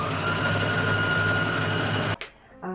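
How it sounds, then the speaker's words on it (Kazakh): An overlock serger runs steadily and loud, seaming the edges of a pillow cover in one continuous whir of about two seconds, then cuts off abruptly into quiet with a faint clatter. "Міне, аверлок дегеніміз осылай тігіледі."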